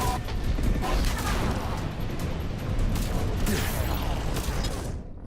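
Heavy battle noise from the Mass Effect video game, continuous rattling gunfire and rumbling explosions layered into a loud, dense din that cuts off abruptly at the end.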